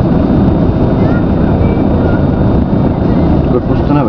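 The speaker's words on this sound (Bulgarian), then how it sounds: "Духа, бе. Ама студенко." Strong wind buffeting a microphone outdoors in cold weather at about minus ten degrees, a steady loud roar and rumble throughout with a voice speaking over it.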